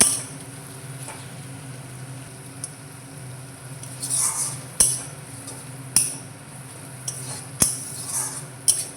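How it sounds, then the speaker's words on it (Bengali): Chicken with spices and tomato is stirred in a pan. Sharp metallic clinks of a spoon against the pan come irregularly over a low, faint sizzling background, growing more frequent toward the end. No one speaks. "দিয়ে এটাকে ভালো করে নাড়াচাড়া করে নেব।"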